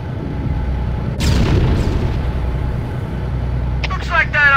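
Covenant tank cannon fire and explosions in the Halo CE game: a loud boom rolls in about a second in over a constant low rumble, then a sharp burst of crackling blasts near the end.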